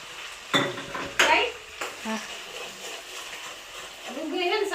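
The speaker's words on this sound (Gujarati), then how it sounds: "તળવા દેવી પડે ડુંગળી ટમેટા" Oil sizzles and pops in a pan as onions and tomatoes fry for pav bhaji, with a few clanks of a utensil stirring and a voice talking nearby.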